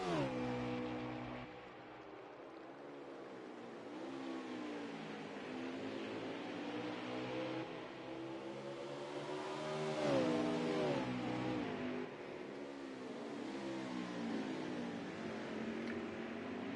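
Race cars on the final lap at Road America, several engines revving and shifting up and down as they pass, distant and fairly faint, continuous throughout.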